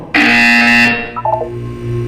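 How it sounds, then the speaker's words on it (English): A loud Portal 2 wellness-exercise buzzer blares once for under a second, followed by a quieter short electronic chime and a low background hum. "You will hear a buzzer. When you hear the buzzer, look down at the floor."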